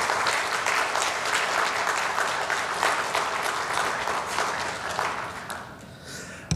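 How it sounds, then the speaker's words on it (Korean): A church congregation at a Wednesday prayer meeting applauds to welcome a pastor to the pulpit: sustained, even clapping that holds for several seconds and thins out near the end. "나오실 때 박수로 맞이하겠습니다."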